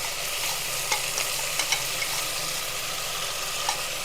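Ginger garlic paste fries in a pan for a gongura chicken cooker biryani, giving a steady close sizzle with a few faint clicks from stirring and no voices.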